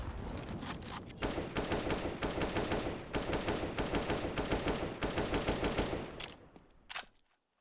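Rapid automatic rifle fire from an AK in a Counter-Strike match on the Inferno map, dense sustained bursts for about six seconds before a brief final shot and silence.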